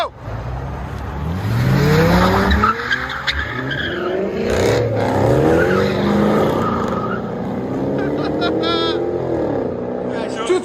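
A 2007 Chrysler 300C with a 5.7 HEMI V8 and a full aftermarket exhaust launches hard, its engine roaring up through rising gears with tire squeal, loud and close, while people shout over it.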